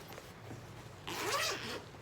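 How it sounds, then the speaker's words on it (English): Zipper on a Kavu rope bag being pulled: a brief, close, raspy zip that swells in the second half and then stops. "The zipper zips from, where is it? Oh, the top up here"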